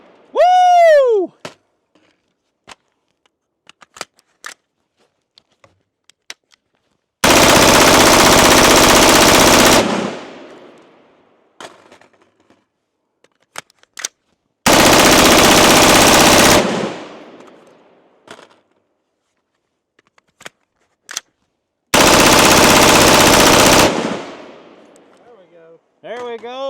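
A Colt M4A1 SOCOM rifle fires three long full-auto bursts, each lasting about two to three seconds, loud and close, with quiet gaps between them and brief voices and scattered clicks.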